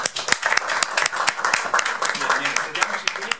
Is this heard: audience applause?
yes